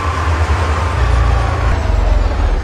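A Kamaz 5410 truck engine in Euro Truck Simulator 2 revs higher, a deep, heavy drone rising and rumbling steadily, loud and close, with a throbbing low-end pulse and no voices.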